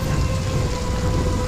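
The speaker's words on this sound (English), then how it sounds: "It's just a storm." A loud, dense storm roars steadily, with heavy rain and low rumbling thunder forming a constant wash of noise and no voices.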